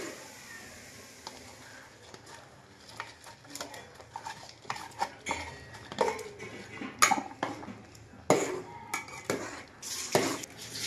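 Jaggery is stirred into half-cooked lapshi in a pot with a spoon, making irregular clinks, scrapes and knocks against the metal that grow busier and louder toward the end over a faint background hiss.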